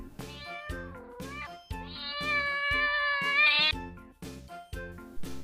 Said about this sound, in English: Cat makes meow sound.